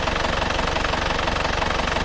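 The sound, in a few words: Isuzu Panther diesel engine idling just after starting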